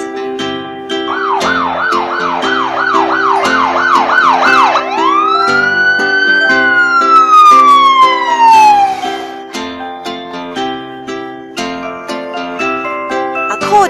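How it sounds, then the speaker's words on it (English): An ambulance siren blares loudly, first with rapid warbling yelps, then a long rising-and-falling wail, over a musical backing. "ambulance,"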